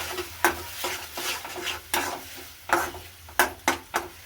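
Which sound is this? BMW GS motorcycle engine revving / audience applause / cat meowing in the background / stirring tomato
stirring tomato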